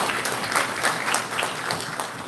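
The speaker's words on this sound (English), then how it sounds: "Please give them another round of applause." An audience at a lectureship event applauds after presentations, a brief burst of many hands clapping at moderate loudness with no talking.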